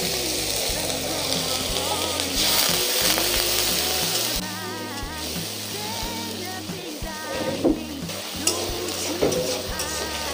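Spices for a Bengali sea fish curry fry and get stirred in a pan, a steady loud sizzle with scraping stirs running throughout, music playing along underneath.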